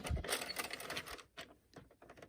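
A circular knitting machine knits a flat panel, its carriage clattering in quick mechanical bursts with brief pauses as direction changes, close and fairly loud.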